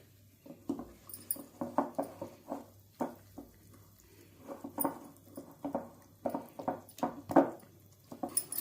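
Salted batter for vada pav bajji being mixed by hand with small additions of water, giving soft, wet, squishy slaps in an irregular rhythm, close and fairly quiet, with no talking.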